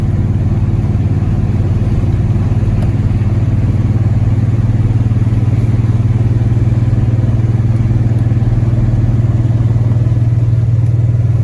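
A second-generation Dodge Ram 1500 with a stroked Magnum V8 and homemade exhaust drives along, giving a loud, steady, deep exhaust drone heard from inside the cab, with no talking.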